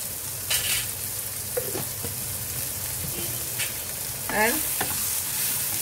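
Bitter gourd frying in coconut oil, a steady close sizzle with stirring and scraping in the pan throughout, and a brief word spoken near the end.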